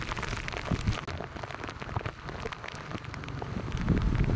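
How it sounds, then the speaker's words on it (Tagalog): Heavy rain splashes hard and close while riding along a flooded road, a dense, continuous pattering spray that swells slightly toward the end. "sobrang talsik ng ulan"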